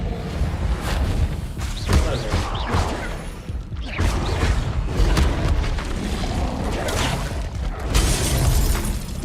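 The Incendio fire spell cast in Hogwarts Legacy: a series of loud booming, crackling bursts and whooshes over a rumbling low roar, with the louder surges near the start and end.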